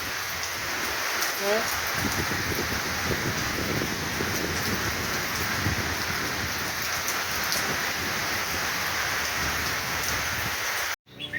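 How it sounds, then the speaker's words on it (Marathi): Heavy monsoon rain pours steadily onto surfaces with thunder rumbling low beneath it, a dense, unbroken hiss of close raindrops that stops abruptly near the end. "चांगलाच पाऊस आहे"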